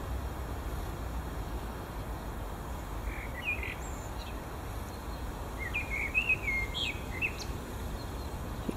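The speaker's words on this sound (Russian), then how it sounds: "И красиво поет какая-то птичка." An evening songbird sings from among flowering trees, including magnolia, giving short bursts of bright chirping phrases that are fairly faint over a steady outdoor hiss.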